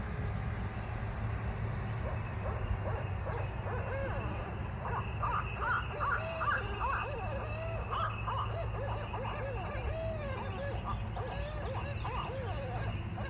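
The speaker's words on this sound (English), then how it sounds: "that bird happens to be a barred owl" Barred owl hooting calls played back from a phone birding app, a series of wavering, wild hoots and cackling notes over a constant background hum, moderately loud and continuous.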